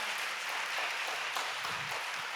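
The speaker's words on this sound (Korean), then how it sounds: "박수 한번 해주세요" Congregation applauding during a joint church worship service, a steady broad wash of clapping held at an even, fairly quiet level throughout, with no voices over it.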